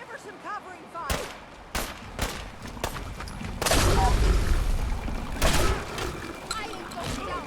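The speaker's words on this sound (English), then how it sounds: "Give her some covering fire!" A minigun fires in Fallout 4 Far Harbor, loud bursts of rapid gunfire breaking out in separate sharp volleys and then a long sustained stretch, mixed with shouted speech and other battle noise.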